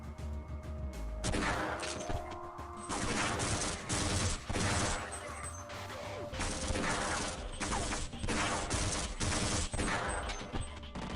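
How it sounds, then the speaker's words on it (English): Dense rapid automatic gunfire from a mounted turret gun in Half-Life: Blue Shift, loud and continuous in long bursts with brief gaps, crackling blasts and impacts filling the whole stretch without any talk. "Shooting the turret gun is a bit awkward because I can't really see over it."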